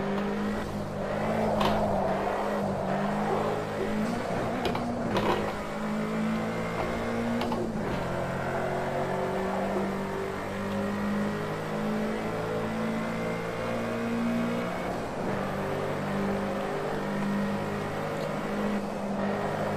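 In a racing video game, a front-wheel-drive Honda Civic sedan's engine drones loud and steady, with revs climbing and falling through gear changes, continuous without talk.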